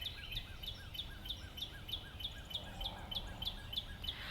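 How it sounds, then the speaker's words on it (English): Small birds chirp at a bird sanctuary, sending out quick, regular high-pitched calls in a steady repeating rhythm over a low outdoor hum; the calls are faint and there is no talk. "I'm at a bird sanctuary, and you can hear all the high-pitched sounds"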